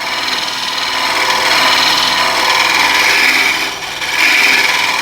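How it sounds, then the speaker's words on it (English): Bowl scraper cutting into wood on a lathe during bowl turning, a steady close rasping scrape with a whirring undertone that holds throughout, dipping briefly near the end before resuming. "So here I would use this bowl scraper"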